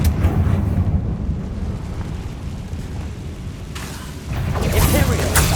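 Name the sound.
Confringo fire spell explosion, Hogwarts Legacy video game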